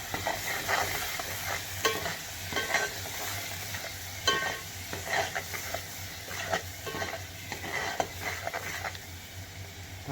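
Ground onion paste fries and is stirred in a chicken biryani pot, giving a continuous sizzle with repeated scraping strokes of the spoon at an irregular pace, close and fairly loud, with no voices.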